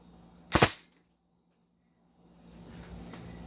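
A single sharp airsoft shot from an M4A1 rifle tested at around 500 FPS, a loud crack at close range followed by quiet and then faint background noise.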